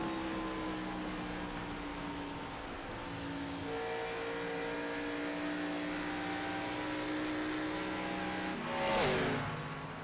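Race cars lapping an oval at Atlanta Speedway in a 2008 Midwest Motorsports Oval Series race, a steady layered engine drone that holds throughout, with one car swelling louder as it passes near the end.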